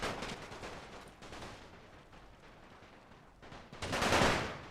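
Rifle infantry volleys in The Great War: Total War, a WW1 Russia versus Ottomans battle, crackle as a dense continuous wash of gunfire, swelling into a louder burst near the end with no voices.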